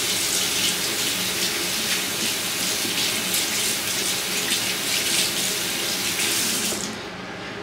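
Water runs steadily from a bathroom tap into a sink while a lavender mud mask is rinsed off the face, a continuous close splashing gush that cuts off abruptly near the end.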